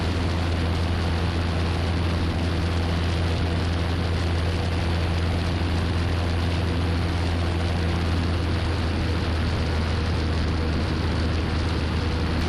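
Piper Warrior light aircraft engine after the throttle is eased back in flight, a constant, loud cabin drone with a low steady hum and a broad rushing wash, unbroken throughout.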